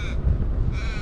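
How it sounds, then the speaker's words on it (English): Crows in trees caw loudly and close, one harsh call at the start and another near the end, with a low rumble of wind or movement between on an autumn ebike ride. "Did you hear the cawing of the crow?"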